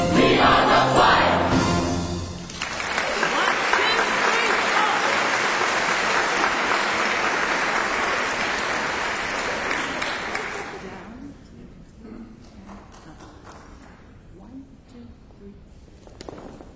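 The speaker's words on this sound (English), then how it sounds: "Can we have another round of applause?" An audience applauding after a choir finishes a song in harmony, a brief sung ending giving way to full, dense clapping that holds for several seconds before fading out.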